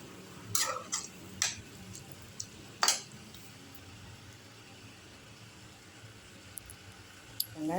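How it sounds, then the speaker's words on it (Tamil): Boiled mutton stirred and roasted in a pan for mutton sukka, with a few sharp scraping clatters of a spoon on the pan early on and a low steady sizzle running underneath, no talk. "போட்டுட்டு இந்த மட்டன் வேக வச்சதை கொட்டிக்கலாம். இது அப்படியே கொஞ்சம் சுருளை வரட்டங்க."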